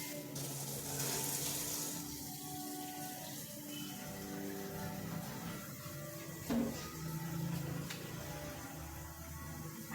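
Water runs steadily from an outdoor tap into a pot for heating, a continuous low gush and splatter filling the vessel, close and fairly quiet, no talk.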